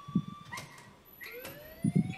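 Alarm from the video game Life is Strange: a rising, wailing siren-like tone with sustained high pitched sweeps, moderately loud and unaccompanied, with low thumps at start and end.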